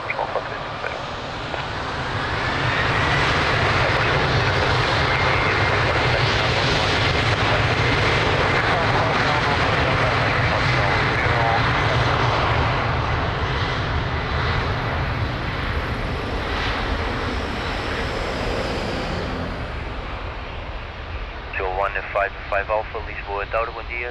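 An airliner taking off from runway 02 at Lisbon Airport, its jet engines building to a loud sustained roar that holds and then fades, with radio voices from the control tower heard over it.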